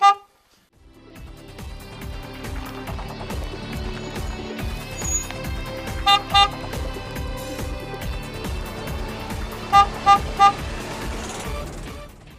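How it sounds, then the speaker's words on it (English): Under a rumbling engine, a horn beeps twice, then a few seconds later sounds three quick beeps in a row, the signal for backing up. "and 3 times to back up."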